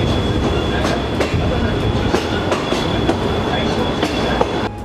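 The Chichibu Railway SL Paleo Express steam train runs through Kaminagatoro station with a steady, loud rumble and rhythmic clickety-clack of wheels on track, heard from on board without talking.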